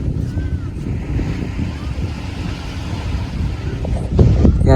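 Sea waves wash onto the shore at Cagsiay in Mauban, Quezon, with wind buffeting the microphone in a loud, continuous rumble and a bigger surge of surf near the end.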